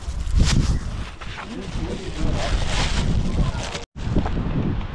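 Steady rushing wind at the ocean shore buffets the microphone throughout, with a brief dropout near the end; faint voices may sit under the roar.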